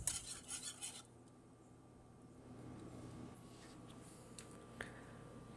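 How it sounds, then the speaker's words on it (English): A pot of pumpkin spice oatmeal gets a brief stir, a quick burst of spoon-on-metal scraping and clinking at the start, then a quiet low simmering hum under faint occasional clicks. "Every so often, I'm just going to Give it a little stir."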